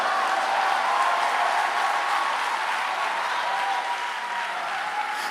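A church congregation applauds, sustained dense clapping from many hands that fills the room at an even level for the whole stretch, with no break or clear voice above it.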